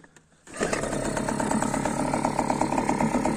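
A Parsun 3.6 outboard boat motor fires up after a brief quiet moment and settles into a steady, close, rattling idle that runs evenly to the end.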